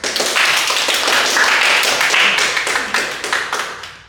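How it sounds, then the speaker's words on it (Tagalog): Audience clapping at a National Bible Week program, a loud close burst of many hands clapping that holds steady, then thins and tapers off near the end. "Palakpak naman dyan."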